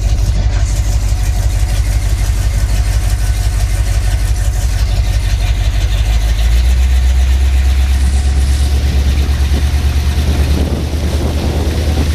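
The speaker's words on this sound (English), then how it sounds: "We just gotta roll slow because I got an exhaust leak." Car rolling slowly with an exhaust leak, a loud continuous low engine drone with a rough, raspy character that deepens and swells toward the end, no talking.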